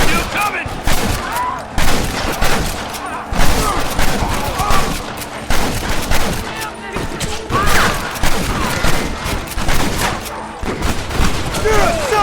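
Gunfire in a village shootout in the video game Red Dead Redemption, dense rapid volleys of shots crackling nonstop and close, with shouting voices mixed in between the bursts.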